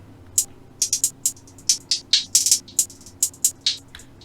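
Hi-hat pattern in FL Studio processed with EQ and a light delay, bright crisp ticks falling in bouncy irregular groups with short echo tails, close and alone over a faint low hum.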